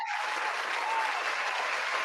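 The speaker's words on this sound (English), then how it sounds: "Round of applause to Robbie." Studio applause fills a short, continuous round of clapping from several hands. It is dense and steady at a moderate level, with no voices over it.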